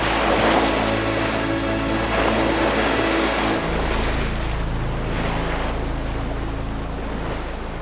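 Wind roars steadily over the microphone while a boat's engine hums low beneath the wash of waves on open water.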